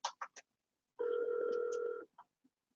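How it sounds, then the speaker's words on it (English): A single long telephone ringback tone, a steady electronic double-pitched burr lasting about a second during an outgoing call, preceded and followed by a few short faint clicks and blips. "No, we're calling Grant now."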